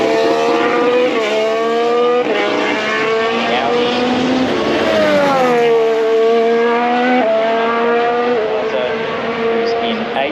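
A Formula 1 car screams past spectators at turn 1 during a practice session at the 2026 Australian Grand Prix, loud high-revving engine pitch rising and falling through gear changes, with a commentator's voice running over it.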